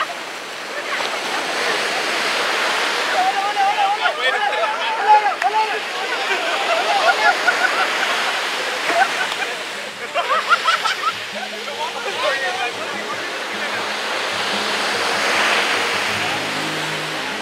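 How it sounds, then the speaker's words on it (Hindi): High ocean waves roll and crash at Gokarna beach in Karnataka during a boat launch, a broad, continuous surf roar that swells and ebbs, with voices talking over it. "they are launching the boat in high wave ocean, काफ़ी हाई वेव से फिर भी ये बोट को लॉन्च कर रहे हैं"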